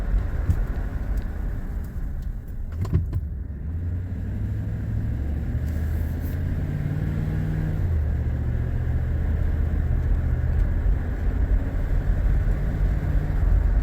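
Interior road noise of a 2017 Chevrolet Tahoe driving after new front rotors and pads, a steady low rumble of engine and tires with a gentle rise in pitch as it accelerates, and a few faint clicks early on.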